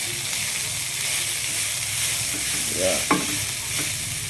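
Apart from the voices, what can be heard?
enoki mushrooms added and stirred in a sizzling pan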